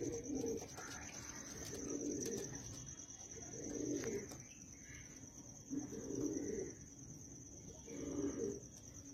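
Pigeons being sold cooing in a loft or cage during the rainy season, repeated soft low coos in regular bursts every couple of seconds over a faint background hiss and a high steady whine.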